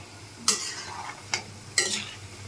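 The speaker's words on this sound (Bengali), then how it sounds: "কম আঁচে ভাজতে হবে, এইভাবে লাল লাল করে ভেজে নিতে হবে।" Stirring in a pan while frying on low heat for matribhog sweet, three short scraping strokes with light sizzle between them, close and fairly quiet.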